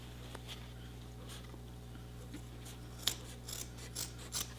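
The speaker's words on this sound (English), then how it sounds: "So you want to cut that whole crotch out" Scissors snip through the thick crotch seam of a pair of jeans being cut for a denim purse, giving a few faint, spaced cuts and then a cluster of louder crisp snips near the end, with no talking.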